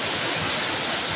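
Floodwater from heavy mountain rain rushes past carrying stones, a steady loud broadband roar with no pauses and no voices.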